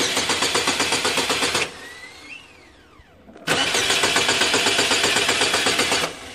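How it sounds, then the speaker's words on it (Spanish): Starter cranking a 2009 Chevy Malibu 2.4 that has a burned PCM, in two loud sustained bursts of rapid rhythmic churning, separated by a quieter pause of about two seconds; the engine never catches. "Ahora vamos a irle a dar allá y el carro debería de prender."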